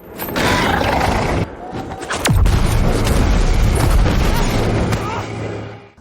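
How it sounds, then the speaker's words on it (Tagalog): A landmine blast sets off another explosion on a cliffside battle, a deep booming roar with a sharp falling whistle, followed by sustained loud rumbling and debris noise that fades out at the end. "Isa pang nilalang ang tumama sa landmine at nagdulot ng panibagong pagsabog"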